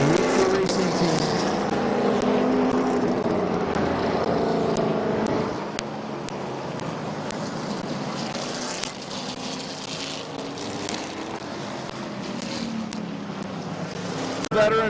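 Race cars roar steadily around the Midvale Speedway oval, engines droning as a pack passes, with a continuous mid-distance rumble and occasional sharp crackles over the crowd-filled track ambience.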